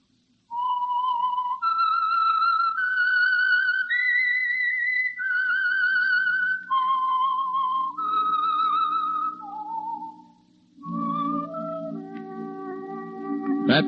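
A clear, solo whistled melody of sustained, wavering notes rising and falling, with a brief pause before a final flourish: the theme tune of the radio program The Whistler.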